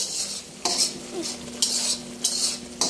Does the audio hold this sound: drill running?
no